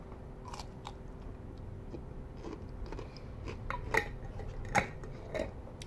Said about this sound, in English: that's pickle crunching ASMR